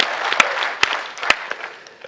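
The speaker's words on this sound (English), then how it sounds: "You may clap for that as well, please." An audience applauds a former rugby player after he lists his awards, a sustained soft patter of many hands with a few sharp louder claps standing out.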